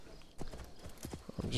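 Horse hooves gallop in Assassin's Creed Shadows, a rapid uneven clatter of hoofbeats at moderate loudness with game ambience behind and a brighter burst near the end.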